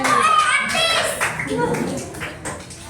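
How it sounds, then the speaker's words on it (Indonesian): Schoolchildren in a classroom clap together on a teacher's cue, a brief burst of close, uneven claps mixed with children's voices. "Tepuk tangan dulu semua"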